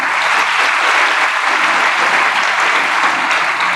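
A packed hall of students at a motivational speaker's event in Bodeli applauds loudly and continuously, the dense clapping holding steady from start to finish.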